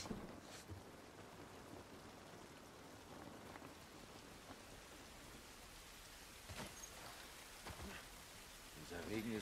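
Steady rain patters in a continuous wash, with occasional sharper drops and faint background sounds; a voice is heard at times. Rain in the video game The Last of Us Part I.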